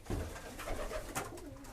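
Tippler pigeons coo softly inside a loft, low murmuring calls blending into a steady hum of background noise, with no voices over them.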